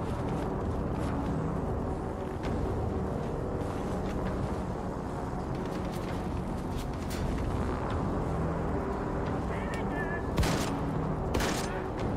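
Double-barreled shotgun fire in Wolfenstein 2: The New Colossus, a few sharp blasts standing out over a loud, constant wash of combat noise and rumble.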